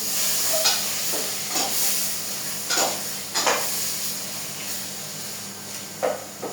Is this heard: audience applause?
no